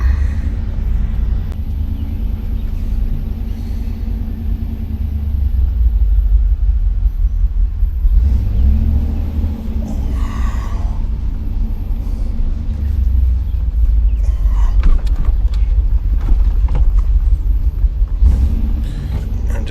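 A 1987 IROC car drives around a residential block, its engine giving a loud, steady low rumble with surging throttle changes and road noise inside the cabin, heard alone.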